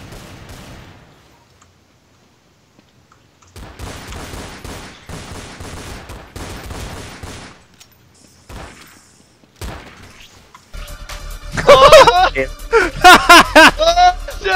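Gunfire from the video game Counter Strike Source ends the stretch in a loud, rapid burst of shots, preceded by a long stretch of people talking and a few quieter sounds.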